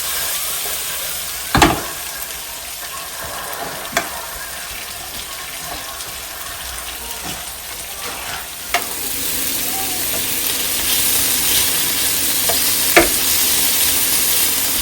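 Vegetables such as onion and broccoli stir-frying in a pan, a steady close sizzle and hiss with a few sharp clinks and scrapes of the spatula scattered throughout.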